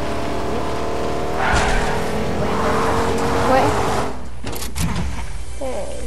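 A car driven in a racing video game, engine whine rising and falling with tire noise and brief skids, fairly loud and continuous, with faint game sounds layered over the driving.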